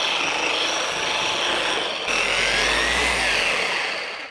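A Flex polisher on its high setting works car paint with a HexLogic medium pad, a steady loud close whine with a hissy rushing texture that shifts in tone midway, alone with no talk.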